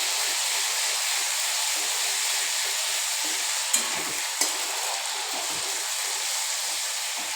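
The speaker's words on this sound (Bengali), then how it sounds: "ভালো মতো কষাবো।" Onion, garlic, ginger and tomato paste sautéing in a pan on low heat for egg curry, a steady close hiss and sizzle with a couple of sharp spoon scrapes, no voices.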